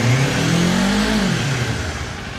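A new 2025 Kawasaki Ninja 500 SE motorcycle engine revs loud and close, a steady strong drone that rises in pitch, then eases back down.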